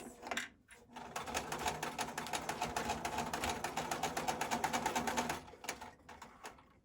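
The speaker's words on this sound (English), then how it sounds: "we are going to want to go forward and reverse to lock the stitch. And we're just going to stitch over those pleats" A sewing machine runs over the pleats of a fabric mask, a steady rapid needle chatter for about five seconds, bracketed by brief starts and stops, close and clear without speech.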